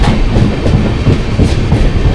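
The Jamnagar–Tirunelveli Express runs through Mangaon station without stopping, making a loud, continuous rumble with steady rhythmic clickety-clack from the wheels on the rails, heard close up with no talk.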